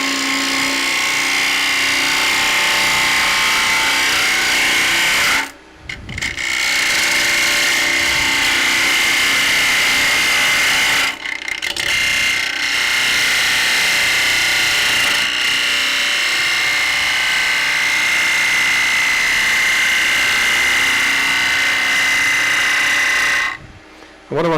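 A wood lathe turns an ash bowl while a bowl gouge scrapes and cuts, giving a loud, continuous whirring rasp. The sound breaks off briefly a few times, then resumes.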